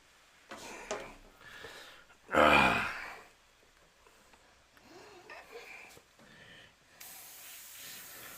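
An airbrush sprays a final clear coat over panels in brief bursts. One loud hissing blast stands out in the middle, with softer puffs around it, and a steady hiss begins near the end.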